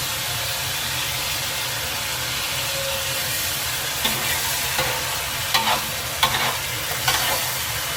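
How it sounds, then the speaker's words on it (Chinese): Eggplant being stir-fried in sauce over low heat, a steady soft sizzle running throughout with a few sharper scrapes of the spatula near the end. "保持小火翻炒，让酱汁均匀包裹住每一块茄子。"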